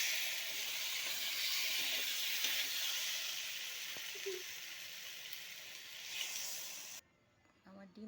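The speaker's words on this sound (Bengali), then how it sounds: "কড়াইয়ের মধ্যে তেল দিয়ে দিলাম, তারপর ডিমগুলি ভেজে নেব।" Eggs frying in hot oil in a wok give a steady, fairly faint hiss that runs several seconds before cutting off abruptly; a voice is briefly heard.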